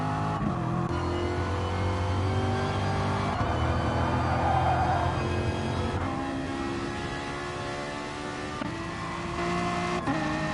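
Loud, continuous race car engines from an MRC league sim racing game, a BMW and a Viper among the field, droning and shifting pitch as cars accelerate and pass, with steady revving throughout and no talk.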